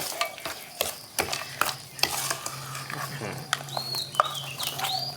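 Batter for fried banana blossom is stirred with a spoon in a bowl, giving a series of sharp scraping and clinking strokes at an uneven pace, close and fairly loud. A low steady hum runs underneath and a few faint squeaks come in near the end.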